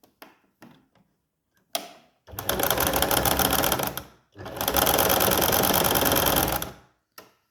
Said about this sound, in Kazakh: Матамыздың екі шетін қосып тіккен жерімізді сөмкенің ішінде көрініп тұрмас үшін барынша сығып тігіспен тігіп жібереміз.